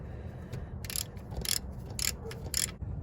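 Wrench cranking a 14 mm bolt on the alternator of a 2005-2020 Nissan Frontier, giving a few short ratcheting clicks in quick bursts, close by and fairly faint, with no talk.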